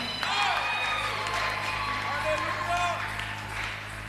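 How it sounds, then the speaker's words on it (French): A church congregation applauds and cheers in a sustained, loud wash of clapping and voices that fills the whole stretch under steady background hum. "Si tu crois, tu acclames."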